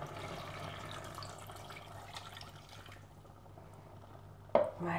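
Broth is poured into a pot of chicken breast and carrots for a Moroccan-style dish, a soft, steady liquid wash that fades, then a brief louder splash near the end.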